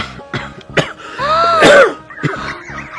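A man coughs in a run of harsh, close bursts, with a strained, drawn-out rasp partway through, then lighter coughs toward the end.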